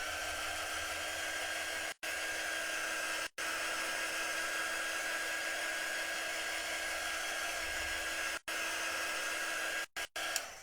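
A handheld hair dryer blows on small craft stems for bottle brush trees, a continuous high whining airflow held close and loud, cut by several brief pauses where it switches off and back on.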